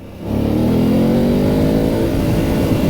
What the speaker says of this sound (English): I'm going to let off the throttle a little bit around this corner and show you that with a nice roll of the wrist